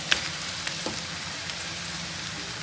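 Fried chicken pieces tipped into a pan of sautéed onions, giving a steady, soft sizzle with a few light clinks and stirring sounds near the start, no talking.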